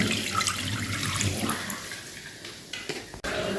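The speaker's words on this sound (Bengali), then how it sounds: "এরকম ফেলে দেওয়া হলো নোংরা জলগুলোকে" Dirty water from washing rice being poured away, a short close gush and splash of water that tapers off with a brief knock near the end.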